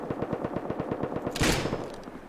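Gunfire in the survival game Rust crackles in a fast, steady string of close shots. A heavier blast lands midway and its rumble tails off as the shooting continues.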